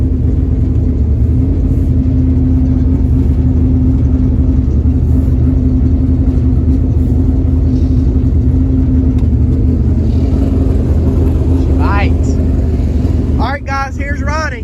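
A late model race car engine rumbles steadily at a short-track practice night, a loud continuous low drone with engine tones rising near the end.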